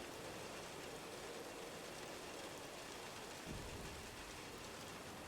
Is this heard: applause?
no